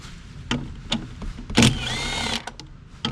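A socket wrench works on 10mm bolts inside a Ford F-150 cab, giving a few close, short clicks and ratcheting bursts with a brief whirring stretch in between.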